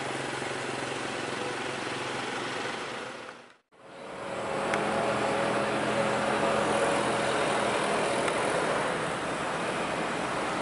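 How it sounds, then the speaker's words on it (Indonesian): A parked tour bus sits with its engine idling in a steady low rumble, broken by one brief dip to near silence before the drone resumes. "ini ada bus pariwisata ya"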